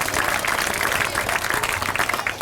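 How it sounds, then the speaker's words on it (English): A crowd claps for students and student presenters at a time capsule reveal and groundbreaking ceremony, a full, sustained round of applause with overlapping hands and faint crowd murmur. "How about a round of applause for all of our students and student presenters?"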